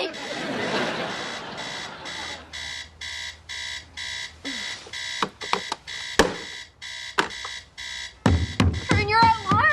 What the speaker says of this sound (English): Turn your alarm off.